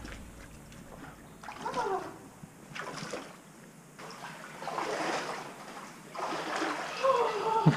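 Water splashes and sloshes as someone wades and plunges into cold water, with gasping voices and loud churning bursts near the end.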